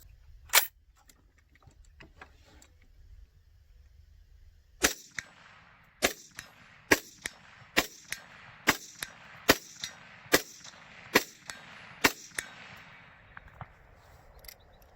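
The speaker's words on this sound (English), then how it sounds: "I'm just going to take a few shots here. I've got a steel target set up at" Rifle shots from a Chinese Type 56 SKS fired at a steel target 100 yards away: one early report, then a steady string of about a dozen sharp cracks at roughly one per second.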